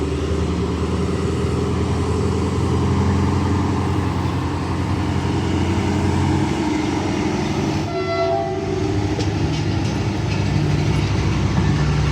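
ZCU20 locomotive 6402 pulling out of Badamibagh station and picking up speed, a loud continuous rumble of engine and rolling wagons with a horn blast near the end.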